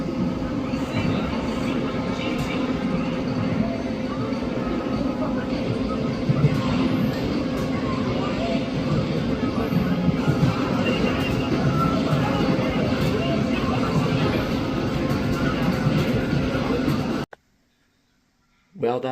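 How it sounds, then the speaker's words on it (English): The Amtrak Cardinal, train number 50 from Chicago to New York City, rolls past a railroad crossing in Orange, Virginia with a loud, steady rumble and clatter of wheels for about seventeen seconds before cutting off abruptly, with talk over it. "This is the Amtrak's Cardinal number 50, out from Chicago, Illinois to New York City."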